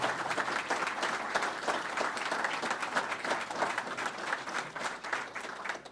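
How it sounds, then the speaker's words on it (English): Steady crowd applause at an airport field dedication ceremony honoring veterans, dense many-handed clapping sustained throughout without a break. "How about a round of applause for all of our veterans that are here?"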